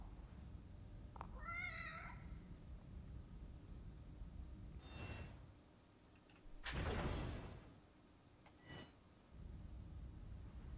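A cat in The Evil Within video game gives a short wavering meow, followed by several soft whooshing and rustling noises and a thump against a quiet, hissy background.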